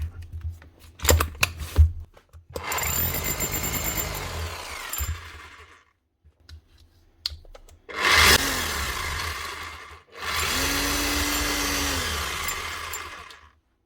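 A repaired power tool sent in by a customer starts in short bursts, then runs and hammers in several sustained spells with pauses between them, loud and close in a workshop, with no talking.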